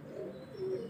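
A pigeon coos on a rooftop loft in Pakistan, a single soft, brief, rolling call heard close and alone against quiet surroundings.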